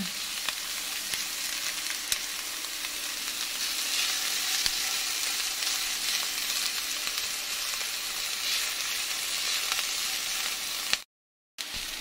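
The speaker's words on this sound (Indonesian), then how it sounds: "Ditumis hingga wangi tanpa hitam." Onions sauté in a hot pan with a steady, close sizzle and frying hiss that runs unbroken for about eleven seconds, then cuts out briefly near the end. No one speaks.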